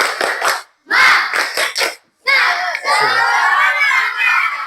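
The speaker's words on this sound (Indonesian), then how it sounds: "Coba tepuk semangat dulu." Schoolchildren at a school gathering perform a rhythmic clapping chant, loud bursts of shouted syllables and claps in quick groups broken by short pauses, ending in sustained group cheering and voices.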